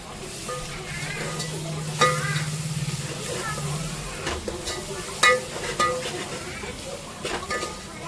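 Ginger garlic paste frying in a pan for biryani, a steady soft sizzle with spoon stirring and scraping clinks against the pan.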